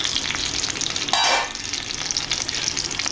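Vegetables sizzling gently over low heat in a pan for Konkani-style cooking, a steady close crackle with a brief louder hiss as something is stirred or added, no talk.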